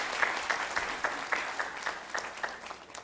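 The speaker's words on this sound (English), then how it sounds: "Let's have another round of applause for" Audience applause during a kirtan night at Bhaktivedanta Manor: a steady patter of clapping from a gathered crowd, with rhythmic accents, heard fairly close and without talk.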